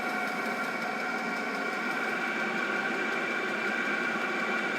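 A portable heater unit running aboard an unfinished boat during winterizing, a loud, steady combustion roar and hum that holds constant throughout with no talking.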